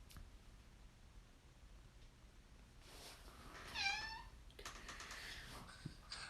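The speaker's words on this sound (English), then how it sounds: "Cat." A cat meows in a quiet home studio, one clear drawn-out meow in the middle with a few soft rustles and shorter chirps around it, faint and close.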